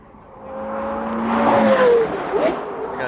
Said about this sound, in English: What a treat to hear a Carrera GT at full throttle.